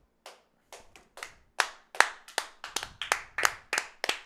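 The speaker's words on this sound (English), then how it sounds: "Even I clap for that." Hands clap about a dozen times in an uneven, quickening series of sharp, close slaps, alone without talk.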